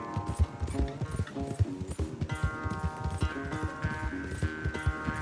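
A horse gallops in a video game race with rapid, rhythmic clip-clop hoofbeats, close and loud, over a sustained game music backdrop, without talk.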